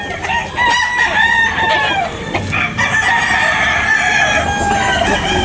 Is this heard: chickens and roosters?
yes